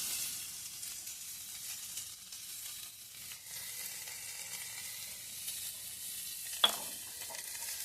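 Potatoes frying in oil with cumin seeds that have darkened, giving a soft, steady sizzle throughout with one brief sharp clink of a utensil near the end, no talk.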